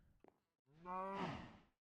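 Cow in the Minecraft modpack SkyFactory 4 lets out a single drawn-out moo, rising then falling, preceded by a couple of small clicks, close and clear with no talk.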